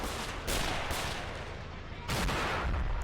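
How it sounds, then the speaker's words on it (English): Mortar shells strike in the World War II strategy game Men of War: Assault Squad 2, with two sharp, heavy impacts a second and a half apart over a steady battlefield rumble. "Okay, mortars are starting to hit them."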